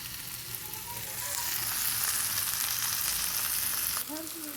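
Taki fish and chilies frying in hot mustard oil, a steady close sizzle that swells and crackles, with small pops and spatters breaking through.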